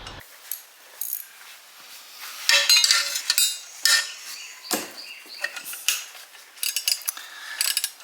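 Ratchet wrench turning a bolt during a fuel injector install on a turbo Toyota GR86, sparse close metallic clicking and scraping bursts with quiet gaps between them.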